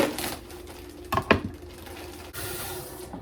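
Running tap water rinses shredded carrots with a steady hissing spray, broken by a couple of sharp clattering knocks in the middle.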